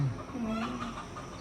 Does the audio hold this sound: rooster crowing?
yes